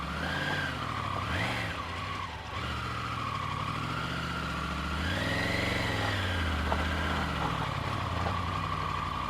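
A motorcycle engine revs and pulls away, pitch rising and falling through several swells, loud and close with a steady engine drone underneath and no voices.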